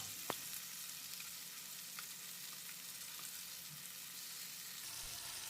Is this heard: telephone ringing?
no